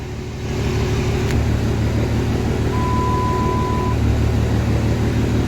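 A vehicle engine with a newly installed 48RE transmission idling steadily in neutral after starting without a jump pack, a loud continuous low rumble close by with a faint high whine.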